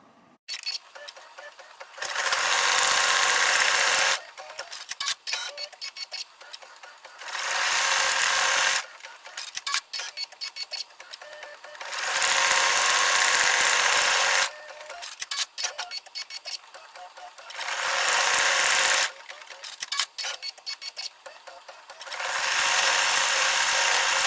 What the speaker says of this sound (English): Next, we're stitching the light strand wire detail.